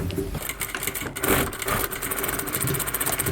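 A sewing machine running a seam on ladies' suit fabric, a close steady rapid mechanical whirring and needle chatter for a few seconds with no talk.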